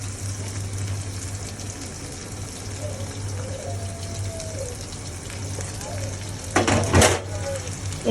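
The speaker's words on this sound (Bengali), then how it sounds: "এবার আমি পেঁয়াজের সাথে চিংড়ি মাছটা ভেজে নেব।" Prawns frying with onions in a pan, a quiet steady sizzle with a low hum underneath and a brief louder clatter of utensil against pan near the end.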